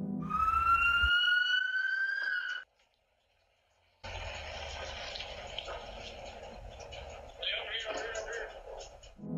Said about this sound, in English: The sirens wail in the background,